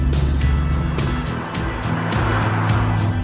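A Dodge Viper sports car drives with a loud, close engine roar that rises and falls with gear changes over about three seconds.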